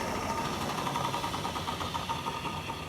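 Freshly picked garden herbs spun in a salad spinner, a continuous whirring, rattling drone at close range that holds steady throughout, with no talking.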